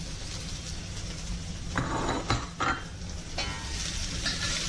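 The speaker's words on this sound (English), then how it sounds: "give that a really quick mix because we want the oil to coat everything" Beef chow fun with green onion and bean sprouts stir-fried in a hot wok, a steady loud sizzle broken by a few scraping tosses of the spatula, no voices.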